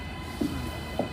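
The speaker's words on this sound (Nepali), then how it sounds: "एकदमै ट्रेनको आवाज चाहिँ धेरै ठुलो हुन्छ" Steady low rumble of a train on the Gold Coast to Brisbane route, heard from inside with an even, moderate drone and two brief faint tonal chirps.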